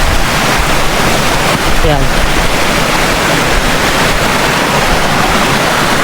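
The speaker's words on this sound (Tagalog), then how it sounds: "Ito yung itsura Agos ng tubig" A rushing meltwater stream in Greenland, loud, close and continuous broadband water noise with wind buffeting, and someone briefly speaking over it.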